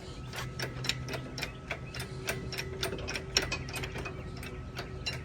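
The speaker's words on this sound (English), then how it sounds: "Let's go ahead and try to pump it up." A hydraulic cherry picker hoist is pumped in a quick, even run of sharp ratcheting clicks, mechanical and close, with no talking.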